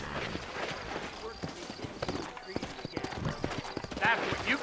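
Horse hooves clip-clop at a steady walking pace in the Old West game Red Dead Redemption, set in New Orleans, under a busy ambient bed, with a soft whinny near the end and voices talking.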